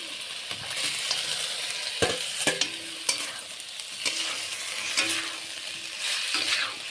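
Country chicken hits a hot pan of frying tomato, green chilli and spices, giving a steady close sizzle broken by several sharp clanks and scrapes of a stirring spoon.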